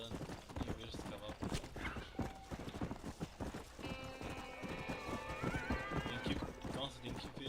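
A horse in the video game Red Dead Redemption clops along and whinnies, a melodic neigh rising partway through over steady hoofbeats, with someone talking throughout.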